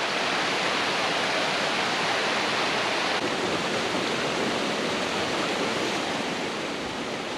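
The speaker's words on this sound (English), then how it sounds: "The Twin Falls are approximately 80 feet high" Twin Falls, an 80-foot waterfall in Glacier National Park, pours with a steady, dense roar that stays even and close throughout, with no voices over it.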